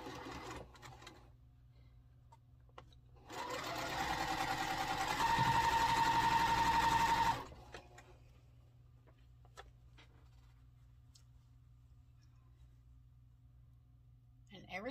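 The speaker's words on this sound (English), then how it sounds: "So I'm just going to chain stitch all these and then add to it when I get to the last block" A sewing machine runs in one steady burst of about four seconds, chain stitching quilt blocks, loud and close, then stops; quiet room tone and light handling sounds fill the rest.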